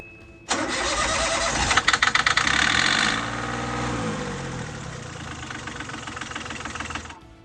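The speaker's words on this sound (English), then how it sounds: "we're running the engine with the cover off" An Osprey aircraft engine runs with its cover off after an oil change, starting with a loud burst, a rapid knocking rattle, then settling into a steady, loud, close mechanical roar until it cuts off near the end.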